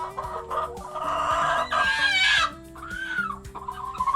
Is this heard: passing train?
no